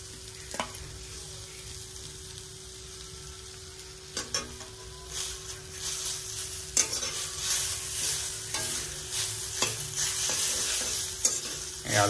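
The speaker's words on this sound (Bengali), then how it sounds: "বিটটা ভাজা হয়ে গেছে, এবার আলুটা দিয়ে দেবো।" Beet, carrot and potatoes fry in oil and are stirred in a pan, with a steady sizzle underneath and occasional scrapes and knocks from the utensil. Nobody speaks.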